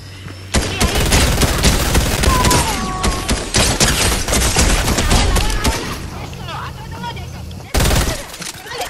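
Loud, dense gunfire in Fortnite, fast bursts of shots with a brief quiet gap before a final sharp volley, mixed with game effects and voices talking over the shooting.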